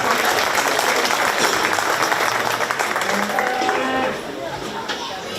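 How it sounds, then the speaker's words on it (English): Crowd at a county fair 4-H/FFA market beef show applauding the exhibitors, dense steady clapping with an announcer's voice and crowd chatter running underneath. "Let's give these exhibitors a round of applause"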